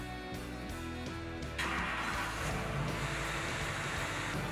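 A vehicle engine turns over and settles into steady running after the wiring of an aftermarket transmission temperature gauge is finished, the start marked by a sudden rise to a broad, loud engine hum that continues to the end.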